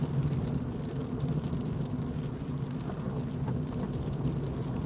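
Heavy rain drums on a car driving through Wigan on a very wet day, a dense, constant hiss and roar under the engine with no break or voice.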